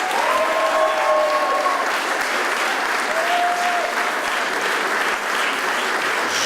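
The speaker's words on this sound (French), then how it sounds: "Merci d'applaudir nos amis du CDNV." A crowd at a 2014 election night party gives sustained, dense applause throughout, loud and steady, with a couple of brief whistles or cheers rising above the clapping early on.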